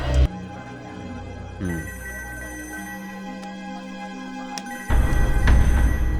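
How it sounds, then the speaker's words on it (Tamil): A telephone rings in a police station at night with a steady electronic tone, sustained and fairly loud, then a louder burst of noise cuts in near the end. "இந்த நேரத்தில் போலீஸ் ஸ்டேஷனுக்கு ஃபோன் வருது?"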